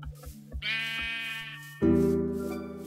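Sheep bleat in the video game Minecraft, two long drawn-out bleats in a row, clear and close with no talking, and faint in-game footsteps before them.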